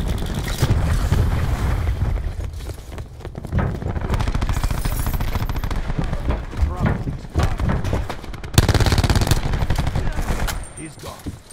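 Cluster grenade blasts and heavy automatic gunfire in a video game, loud and continuous with rapid shots and booming thuds, while voices talk over the combat.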